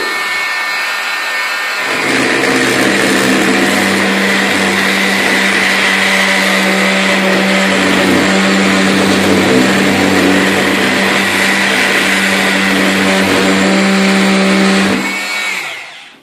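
A Dremel oscillating tool set to speed 7 of 10 removes grout with a loud, steady high-pitched buzzing drone. It runs continuously for about thirteen seconds after a short quieter lead-in, then winds down at the end.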